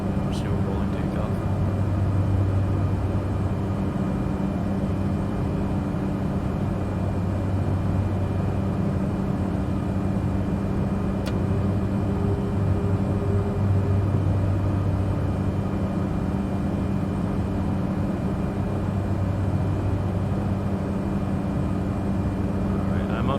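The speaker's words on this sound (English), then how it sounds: "Just do a rolling takeoff" A light aircraft engine drones steadily through a rolling takeoff, a loud, even hum that holds without a break from start to finish.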